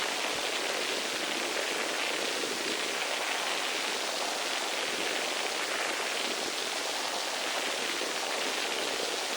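Synthesized light rain with reverb, a steady soft hiss of fine drops spread through a roomy space, constant and even throughout with no pauses or distinct splashes.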